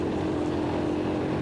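Steady, loud drone of a KTM single-cylinder rally motorcycle heard on board during the Dakar Rally, a constant engine roar mixed with wind rush and no change in pace.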